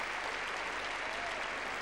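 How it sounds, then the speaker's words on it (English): Steady, dense applause from an arena crowd at a women's gymnastics vault final, filling the whole short stretch at an even level with no break. "smiles and applause from the current leader, Yelena Pizguin"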